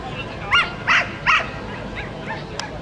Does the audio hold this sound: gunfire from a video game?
no